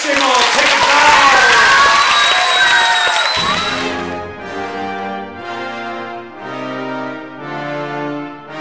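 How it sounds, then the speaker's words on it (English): An audience bursts into applause mixed with cheering voices for roughly four seconds, then the crowd noise drops away and gentle tonal music carries on alone. "Round of applause, bravissimo, take a bow."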